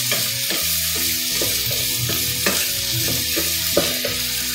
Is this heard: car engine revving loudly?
no